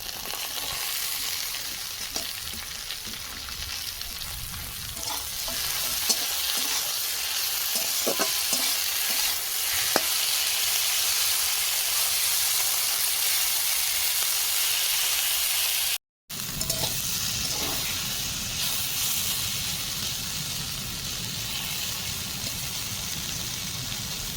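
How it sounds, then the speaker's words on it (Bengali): Boiled water spinach fries in oil with onion and is stirred around a pan, making a continuous close sizzle with occasional scraping and clicking, broken once by a short silent gap. "এবার সেদ্ধ করে রাখা কলমি শাক দিয়ে দেবো"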